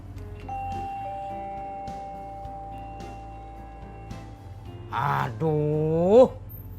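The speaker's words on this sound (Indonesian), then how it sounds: "udah 2 kali mencet bel" Doorbell rung at a house in an Indonesian comedy series, a sustained electronic chime tone ringing under background music, followed by a voice with rising, sung-like calls toward the end.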